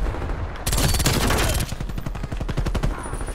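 A MAC-10 submachine gun fires in a video game: a dense, rapid burst and then a string of quick rattling shots in a steady rhythm, loud and close.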